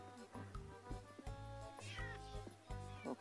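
A Minecraft 1.16 cat meows repeatedly beside an iron golem farm, with several clear meows over rhythmic low game tones and no talk.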